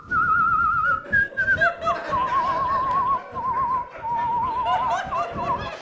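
A comedian whistles a melodic, warbling catcall on stage, several long sustained tones with breaks between them, loud and close, over a steady crowd murmur and scattered laughter.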